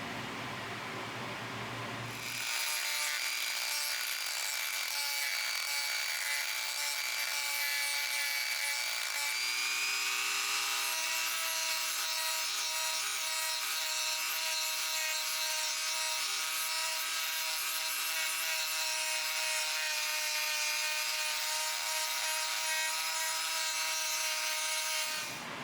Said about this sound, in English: I'm going to use those sanding drums